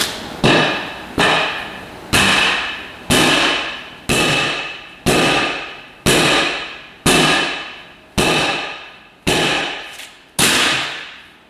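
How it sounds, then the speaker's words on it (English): Eleven evenly spaced, sharp metallic strikes of a hammer working a drag racing tire bead onto its rim ring out about once a second, each decaying briefly before the next, loud and close. "I looped up the bead a little bit here to get the hammer to go in there a little easier."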